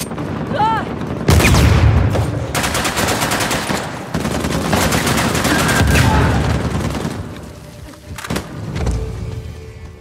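A mounted gun firing in Uncharted: The Lost Legacy, with loud rapid bursts of automatic fire in several long strings broken by brief gaps, a few voices calling out underneath.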